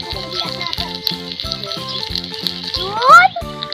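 Food fries in a pan with a steady hiss and occasional rattles, heard under a repetitive background melody.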